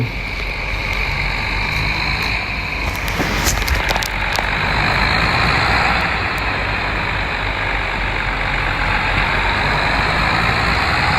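A John Deere 5075E tractor on 18-inch tires runs steadily along a dirt track, its diesel engine a loud, constant drone close by, with brief clattering knocks partway through and no talk.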